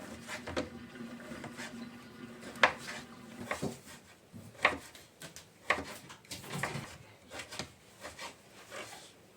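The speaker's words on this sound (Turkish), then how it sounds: "Küçük küçük doğrayacağım sucukları." A knife taps repeatedly on a cutting board chopping sucuk sausage into small pieces, irregular knocks spaced through the stretch, fairly quiet with light kitchen clatter between strokes.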